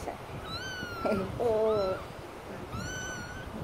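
A young cat meows several times, thin rising-and-falling cries close by, with a person making a short vocal sound among them over faint background noise.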